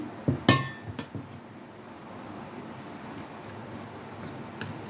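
Omelette ingredients being mixed in a bowl, a few sharp clinks and taps of utensil on dish early on, then quieter scraping and faint knocks over a low background.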